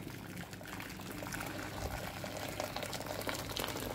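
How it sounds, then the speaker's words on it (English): Freshly boiled kettle water is poured into a pan, heard as a steady splashing, gurgling flow that continues throughout at moderate level with no voices. "We'll just fill some of that up into the pan."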